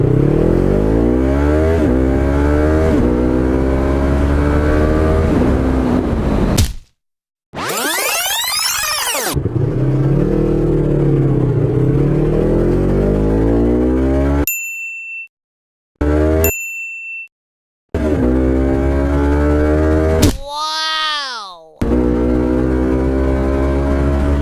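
A motorcycle accelerates hard through clutchless upshifts, its loud engine note climbing in pitch, breaking off briefly between gears, then climbing again, with a few short metallic chimes in between.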